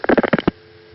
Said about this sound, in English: the off-hook signal has to be sent through each link